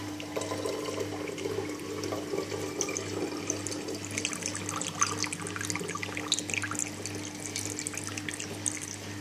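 Fresh homemade juice pours through a funnel in a steady, continuous trickle and splash with a low constant hum beneath, close by, with no talking.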